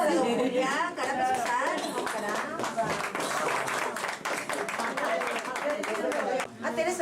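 A crowd claps at a 2006 municipal election campaign event in Laramarca for candidate Don Julián Huaraca. The applause is dense and continuous and sits under loud, excited talking that runs the whole time.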